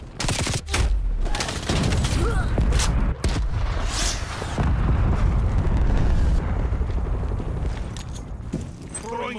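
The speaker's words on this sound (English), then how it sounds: "Stun grenade out!" A stun grenade detonates in the video game Call of Duty Black Ops Cold War amid dense, continuous combat noise of gunfire and blasts, loud and close throughout.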